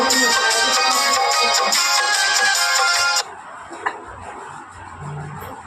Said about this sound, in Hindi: फोन आ गया था किसी का